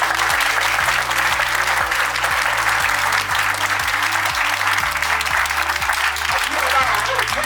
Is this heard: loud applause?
yes